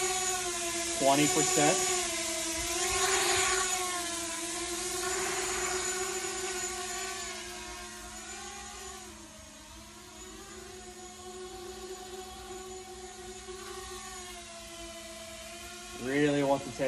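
Motors of a lightweight 5.5-inch pusher quadcopter drone with DJI gear hover nearby in a steady high whine with slight pitch wobble, while someone talks over it at intervals.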